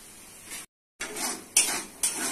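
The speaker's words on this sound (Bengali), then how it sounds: "মশলা ভালো করে কষে নিতে হবে।" Ground spices, including turmeric, chilli, cumin and coriander powder with salt, are stir-fried in a pan, giving a close sizzle with metal utensil scrapes and clinks, briefly cut to silence midway.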